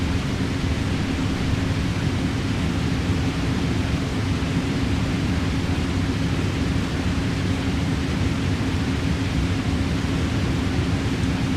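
Thrust reversers on an Airbus A300 during landing rollout in Microsoft Flight Simulator 2024, a loud, steady broadband roar that holds constant throughout with a strong low rumble.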